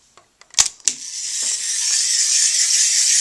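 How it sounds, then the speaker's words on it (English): Ratcheting clicks as the head of a Foodroid Softonya machine is twisted counterclockwise, a few sharp close clacks followed by a steady bright whirring hiss that builds and continues. "Taking the head part, you rotate it counterclockwise."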